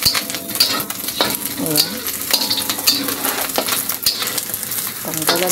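Pork fat sizzling and crackling steadily in a pan as it renders oil, with occasional stirring scrapes, loud and close, and a brief spoken word near the start.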